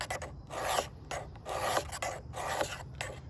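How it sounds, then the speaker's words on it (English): Spine of a stainless Mora Companion knife dragged back along the coarse side of a sharpening stone, making about four close, gritty rasping strokes in a steady back-and-forth rhythm. "Usually I take on the coarse side of my sharpening stone and I drag it back"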